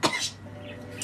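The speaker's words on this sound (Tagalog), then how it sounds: "inuubo ako" A single short, harsh cough bursts out at the very start, followed by a brief breathy trailing sound and low room hum.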